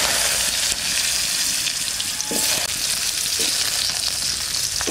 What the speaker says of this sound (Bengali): আলুটা একটু নাড়াচাড়া দিয়ে নেবো,